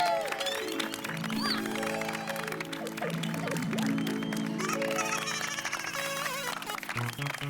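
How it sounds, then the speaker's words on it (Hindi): A crowd applauds a respected elder called Chacha ji at a Children's Day celebration. Dense, steady clapping runs throughout, mixed with music and voices. "हमारे आदरणीय चाचा जी के लिए एक बार जोरदार तालियां बजाइए।"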